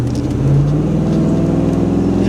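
A Chevrolet SSR's engine revving up, a loud, close engine note that rises in pitch and then holds a steady, buzzing drone.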